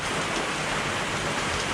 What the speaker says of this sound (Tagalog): Umuulan kasi